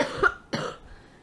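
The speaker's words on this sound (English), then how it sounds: "Sorry if I'm coughing." A person who is sick coughs twice in quick succession, close and fairly loud, indoors and with no talking.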